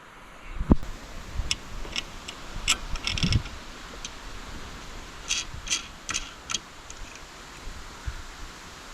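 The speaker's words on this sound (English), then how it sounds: "I'm going to get this bolted on" A new boat winch is bolted onto its mounting plate: sparse, sharp metallic ratchet clicks come in short bursts, close by, over a quiet background.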